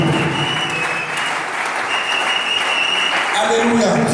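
A church congregation applauds and cheers loudly in a sustained wash of clapping, with a few voices rising through it near the end.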